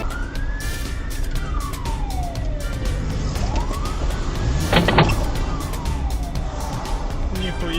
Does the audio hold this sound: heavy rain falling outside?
no